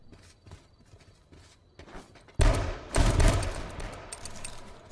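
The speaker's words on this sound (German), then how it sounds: "Wer von euch schießt?" Gunfire in the H1Z1 video game, scattered faint shots at first, then a loud burst of rapid firing with a heavy thump that trails into rattling shots.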